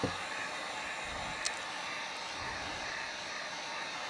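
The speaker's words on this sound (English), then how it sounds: "It's a Wagner heat gun" Continuous whooshing roar of a Wagner heat gun blowing air to dry color fill on a laser-engraved plaque, steady and close, with a brief click partway through and no talking.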